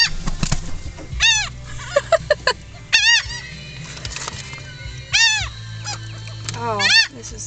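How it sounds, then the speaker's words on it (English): Seagulls crowd a beach parking area and walk on a car roof, letting out several loud, wavering cries in bursts that come close, with flapping and scuffling sounds between the calls. "It's probably covered in seagulls. I hear them walking on the roof."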